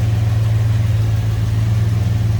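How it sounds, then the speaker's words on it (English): A 1960 Chrysler New Yorker's 413 wedge V8 engine idles steadily with a deep, smooth low rumble, loud and close, holding an even rhythm throughout. "There's that 413 wedge V8 power steering. Smooth running engine."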